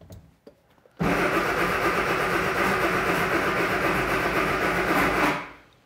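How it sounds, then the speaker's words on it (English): A turbocharged A-Series car engine cranks over with a loud, steady mechanical whirring for about four seconds, then cuts off abruptly. "I'm gonna crank the engine over"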